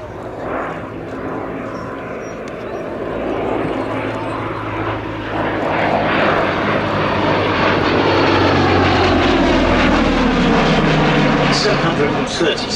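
A Gloster Gladiator biplane's piston engine drones in flight, starting moderate and swelling steadily louder as the aircraft draws nearer, with a voice talking over the sound.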